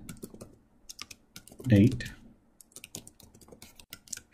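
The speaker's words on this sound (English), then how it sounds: "Now here I'm typing the message" Rapid keystrokes on a computer keyboard while a message is entered into a business-app form, crisp clicks in uneven bursts under a man's brief speech.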